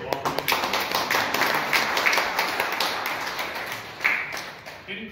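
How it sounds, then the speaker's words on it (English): Audience applause for museum volunteers at a lecture on indigenous people, a steady patter of many hands clapping at moderate distance, sustained throughout with a slight swell near the end. "If you guys want to go ahead and give yourself an applause"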